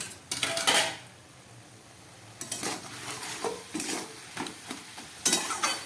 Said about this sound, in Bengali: এবার ঢাকাটা খুলে দেখছি।